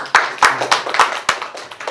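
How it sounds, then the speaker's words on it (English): After a school media pitch presentation, a few sharp hand claps ring out in a slow, steady rhythm, about seven in quick succession, close and clear. "Round of applause, perhaps?"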